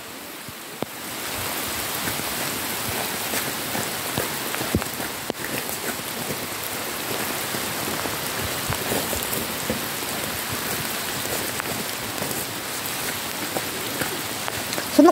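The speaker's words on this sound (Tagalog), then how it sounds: "Ang lakas ng ulan." Heavy rain pours steadily, a dense, loud hiss of drops drumming on surfaces with no letup for about fifteen seconds.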